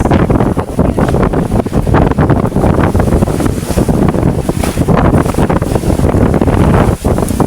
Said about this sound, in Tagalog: At malakas yung hangin.